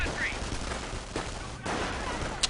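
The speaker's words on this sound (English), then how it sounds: "There's a sniper working away against the rifle squad to the south." Rifle gunfire from a sniper firing on a rifle squad in Company of Heroes 2, heard as a few sharp cracks and bursts over a steady battlefield din.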